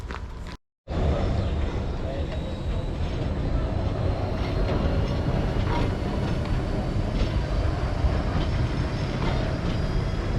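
A Montenvers rack railway train rolls by close at hand, a loud, steady rumble of wheels and carriage noise with faint rhythmic clatter that lasts through, after a brief dropout near the start.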